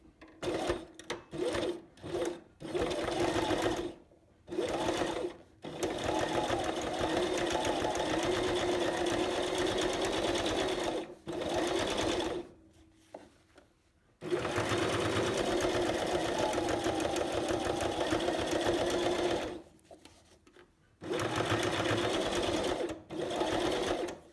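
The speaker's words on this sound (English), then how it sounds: "Don't forget to switch to straight stitch." A nearby sewing machine runs a straight stitch along a fly front zipper, starting with quick stuttering bursts, then long steady whirring runs broken by short pauses, with no talking.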